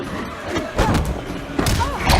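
A grenade going off in a Mortal Kombat X tournament match, two dull thudding impacts about a second apart amid busy game noise.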